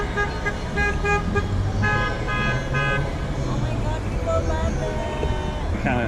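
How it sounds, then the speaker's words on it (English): Car horns on a street sound in short toots, a few in quick bursts followed by a longer honk, over traffic noise with people talking close by. "What's that? Honk."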